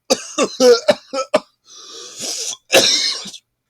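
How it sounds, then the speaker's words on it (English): Several sharp, loud coughs in quick bursts, followed by a raspy throat-clearing cough, close to the listener and with no talking. "my anger cough"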